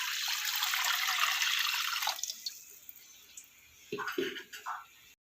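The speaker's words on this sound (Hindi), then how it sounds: "2 कप हमने चावल लिए है और 3 कप हम पानी शामिल करेंगे।" Water is poured into rice in a cooking pot while making vegetable pulao: a steady, close splashing pour of about two seconds that stops abruptly, followed by a few faint voice-like sounds.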